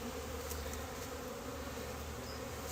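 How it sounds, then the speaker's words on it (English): Honeybees hum in a dense, continuous drone around an open hive during an inspection, quiet but steady, with no voices. "I'm going to try to get some of these bees away before I put the inner lid back on it"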